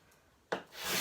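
A trowel scrapes across a ceiling surface during repair work, a quick rough rasp that starts abruptly, dips, then swells into a longer grating stroke, close and alone.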